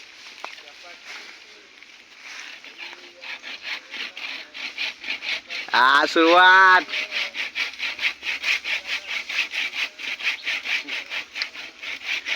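A hand saw cuts through a dry tree in a forest, its strokes making a steady rhythmic rasping close by. The strokes speed up after a brief burst of talk midway.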